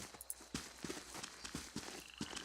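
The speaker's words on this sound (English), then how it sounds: "Okay, some horses." Horses in the video game Pillars of Eternity, heard as irregular hoof clip-clops and soft thuds at moderate distance, with faint snorting and a light wash of ambient background.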